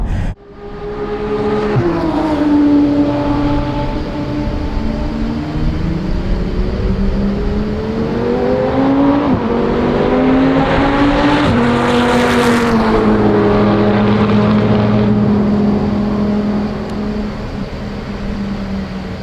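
Chevrolet C8 Corvette, a mid-engine sports car, lapping a track session: a loud, continuous engine roar with rising and falling revs through gear changes, close and sustained throughout, no talk.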